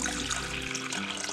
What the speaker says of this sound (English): you can fill it with water to the desired level